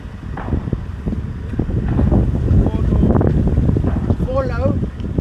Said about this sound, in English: With the automatic idles straight here when you're in first gear.